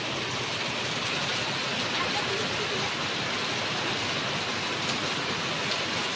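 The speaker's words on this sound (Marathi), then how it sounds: "पाऊस पण तसा भरपूर आहे." Heavy rain falls steadily, a dense, even wash of patter that stays loud and unbroken throughout, with no voices.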